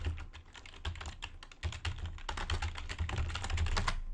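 Rapid typing on a computer keyboard, quiet and close, with dense irregular key clicks in bursts and a steady low hum underneath; nobody speaks.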